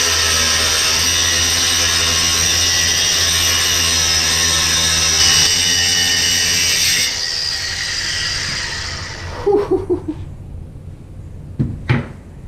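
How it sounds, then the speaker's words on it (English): An old motorcycle steering bearing from a Honda VF500F is cut with a power tool, a loud continuous grinding whine with steady high hiss for several seconds, then stopping and giving way to a few sharp knocks and clanks. "Taking the other bearing, the old bearing, and cutting it so we can use this as a driver."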